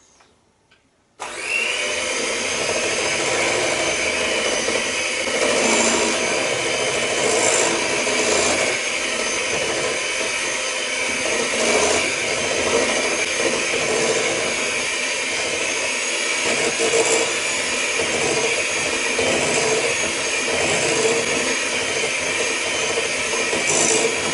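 An electric kitchen mixer whirs through currant cake batter for fairy cakes, a loud steady motor drone that starts abruptly after a quiet second and runs unbroken to the end, with slight shifts as the beaters move.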